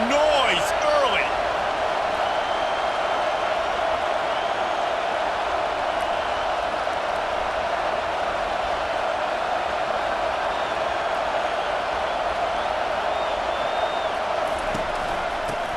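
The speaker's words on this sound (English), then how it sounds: "This crowd bringing the energy and noise early." Crowd noise in a college football stadium for South Carolina at Alabama, a loud, steady roar of voices sustained throughout, with a brief sharper burst at the start.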